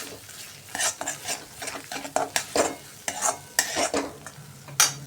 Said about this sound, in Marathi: हलवत राहायचं, कारण काजूमुळे आपला मसाला खाली लागू शकतो।